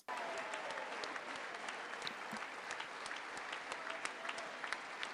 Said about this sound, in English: Every time they stand up to clap, take a shot.